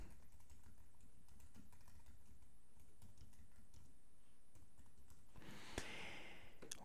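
Quick bursts of computer keyboard typing as an address is entered into a WordPress event form, soft and close with irregular keystroke clusters and no talk.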